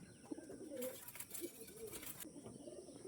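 Kalanka pigeons coo softly in a loft, a few low rounded calls drifting over faint background noise and a brief hiss, fairly distant and quiet.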